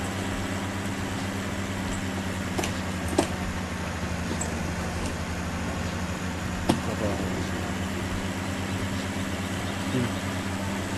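Tractor engine in a farming video game set on a Limousin farm map, a steady low droning hum running throughout at even level, with occasional faint clicks and thumps over it.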